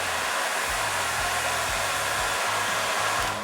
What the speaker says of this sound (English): it's this blow dryer, and I use it to warm up my fingers.